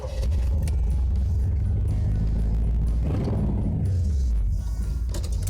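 A 1955 Chevy Sedan Delivery with an upgraded 283 V8 rumbles at idle with a deep steady low throb, then briefly revs up and settles back down, loud and close.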